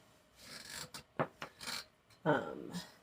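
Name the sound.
removing a bicycle bottom bracket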